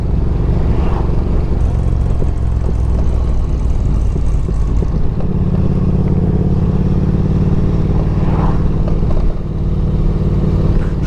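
Triumph Daytona 660 motorcycle engine on a test ride, a loud steady drone heard up close with shifting pitch as revs change midway, accompanied by constant wind rush.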